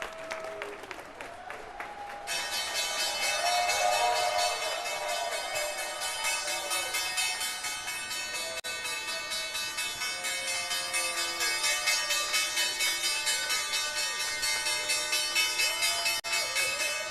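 Stock exchange closing bell on Wall Street ringing continuously and loudly, a sustained metallic clang with dense overtones, over applause and a cheering trading-floor crowd.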